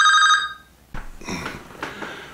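A telephone rings for an incoming call, a short burst of bright stacked electronic tones lasting about half a second, followed by a gap and then some faint indistinct clattering sounds.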